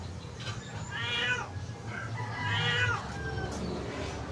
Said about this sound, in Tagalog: Pusa doon sa kapitbahay, tinalian.